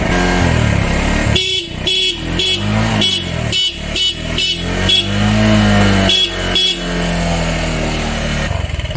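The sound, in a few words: motorcycle horn honking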